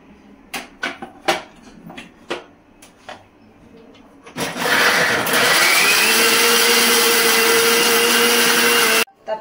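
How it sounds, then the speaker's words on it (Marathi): Loud, steady whir of a kitchen mixer grinder churning a soaked raw mixture for rajma, running continuously for about five seconds after a few scattered clicks and knocks, then cutting off abruptly. "तर हे मी पूर्ण कच्चं चांगलं ग्राइंड करणार आणि मग चांगलं परतून घेणार."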